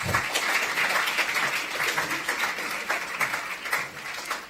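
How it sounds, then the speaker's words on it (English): An audience at a national youth awards ceremony claps in a sustained round of applause, dense and even, holding at moderate loudness for over four seconds. "And you give them a round of applause, please."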